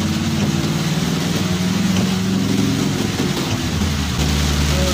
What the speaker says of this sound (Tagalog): So medyo malakas ang ulan.